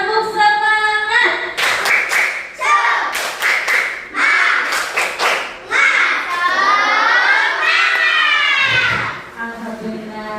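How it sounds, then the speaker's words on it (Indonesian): A class of schoolchildren chants and claps a rhythmic cheer together, loud bursts of unison clapping alternating with sung and shouted phrases close by. "Tepuk semangat."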